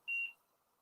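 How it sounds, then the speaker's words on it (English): A single short electronic beep rings out at a steady high pitch for about a quarter second, then stops, leaving near silence in a quiet room. "What in the world is that beeping noise?"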